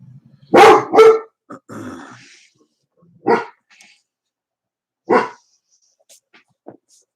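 A dog barks near the microphone indoors while someone pencils a drawing, a quick pair of loud barks followed by a few scattered, sharper single barks and a low growl, with quiet gaps between.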